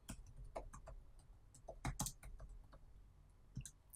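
Keys clacking on a computer keyboard as a prompt is typed into an AI chat, irregular close taps in small bursts, faint and with no speech over them.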